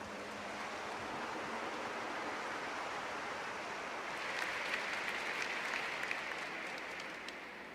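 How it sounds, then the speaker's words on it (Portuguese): Applause from a church congregation fills the space as a steady, dense clapping roar that holds loud and even throughout, swelling slightly toward the end. "Vamos aplaudir essa palavra."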